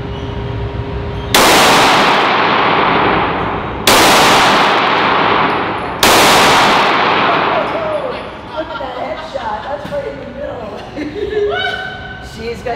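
Three loud, sharp gunshots from a handgun at a Las Vegas shooting range, spaced a couple of seconds apart, each with a long ringing decay, followed by excited talk and laughter.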